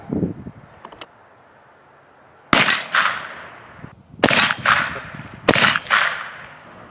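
Air rifle firing 25-grain JSB pellets at a pan, three sharp cracks spaced a second or two apart, each with a short ringing decay, after a faint earlier click.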